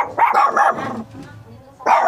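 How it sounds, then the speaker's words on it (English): Several dogs at a relative's house in Tarlac bark in two loud bursts close by, with a quieter gap in between. "May mga dogs."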